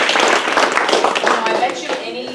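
An audience at a housing workshop in Pacific Grove, California, claps for a panel, a short dense burst of hands with talk running through it.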